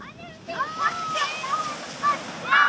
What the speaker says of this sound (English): I don't know if you can hear me over the waves crashing and the kids screaming